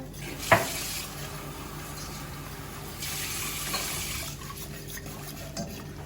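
A flour and water batter for molasses lokum is stirred in a pot, giving soft scraping and swishing with a sharp clink of utensil on metal early and a few quieter knocks later.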